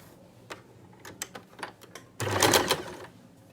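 A sewing machine stitches down a folded fabric strip for palazzo pants with gathers, running in one loud, dense burst of about a second after several soft mechanical ticks and clicks.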